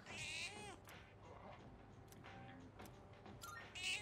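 A cat meows in the video game Persona 3 Reload, with harmonic cries at the start and end around soft clicks and light background game sound.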